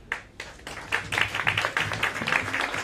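A hall audience at a talk on economics applauding, a burst of many hands clapping that starts thin with a few claps and swells into steady, fairly close applause.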